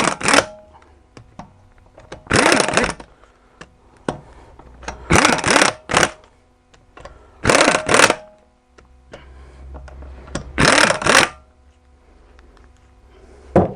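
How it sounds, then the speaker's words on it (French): Impact wrench spinning brake caliper bolts in on a Nissan Qashqai during a front disc and pad change, five short bursts of rattling hammering spaced about two seconds apart, with quieter gaps between. "Les vis, on peut les approcher à la clé à choc"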